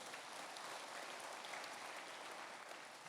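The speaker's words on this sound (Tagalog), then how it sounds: "Ato tagaan og kusog nga palakpak atong buhi nga Dios" A church congregation at a Sunday celebration service applauds, a continuous even wash of clapping that sounds distant and fairly quiet, with no speech over it.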